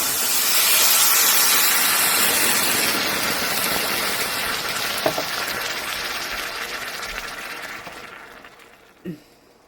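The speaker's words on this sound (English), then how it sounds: "I'm going to add in 2 cups of water." Two cups of water pour steadily from a jar into a jar of homemade seasoned rice mix, a loud continuous splashing hiss that tapers off, with a couple of light clinks near the end.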